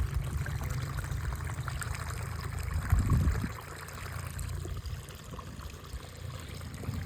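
A small stream of water trickles and pours steadily near a village temple, giving a continuous close rushing babble with a slight surge around the middle.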